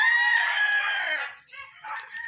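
Four-month-old gamefowl stag giving a single loud, close, slightly rough crow that breaks off partway, followed by a short trailing call.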